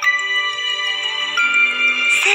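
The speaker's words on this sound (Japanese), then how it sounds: "ゴーから着信です" A phone rings with an incoming call in Pokémon Journeys, a loud, sustained electronic ringtone melody of bright held tones, heard alone.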